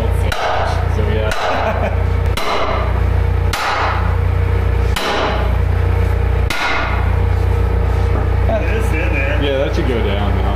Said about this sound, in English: Let's get a sledgehammer.